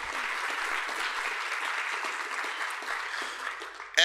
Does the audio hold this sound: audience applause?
yes